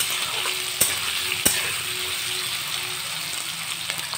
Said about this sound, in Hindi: देखिए तो हमारे आलू अच्छे से ये फ्राई हो चुके हैं